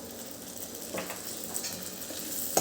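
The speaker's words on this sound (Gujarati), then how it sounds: "હવે આને આપણે બરાબર સાંતળીશું આવું તેલ છૂટું પડે ત્યાં સુધી આપણે એને સાંતળવાનું છે" Ginger-chili paste sautés in oil in a pan, a gentle continuous sizzle with a few light clinks and scrapes of stirring, close by and without talk.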